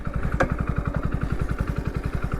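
Hero Splendor Plus Flex Fuel motorcycle, running on E85, idles with a steady rapid low thump of single-cylinder firing pulses, close and even, with a brief sharp click early on.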